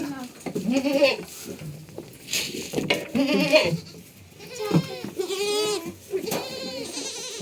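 Young goat kids in a barn give repeated wavering bleats close by, several calls overlapping, while a person talks now and then.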